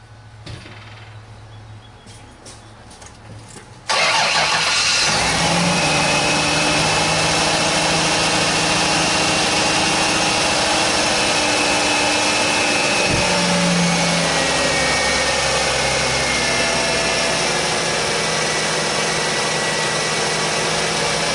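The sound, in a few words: Ford Taurus 3.0L V6 engine starting and idling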